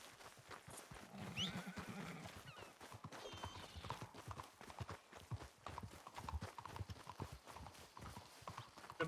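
A horse in a frontier-era video game gallops with rhythmic clip-clop hoofbeats and lets out a loud whinny early on, over busy game ambience and occasional voices.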